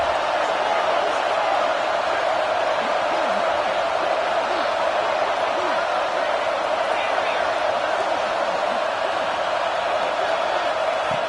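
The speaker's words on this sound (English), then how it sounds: "This crowd is trying to inspire this defense to make a big red zone stop." Stadium crowd noise from a College Football 25 video game, a steady loud roar during a red zone defensive stand, sustained without breaks for the whole stretch.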